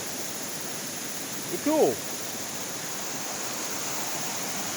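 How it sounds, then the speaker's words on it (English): Jones Creek waterfalls rush in a steady, broad wash of falling water, constant and fairly close, with a brief spoken comment partway through. "Jones Creek waterfalls"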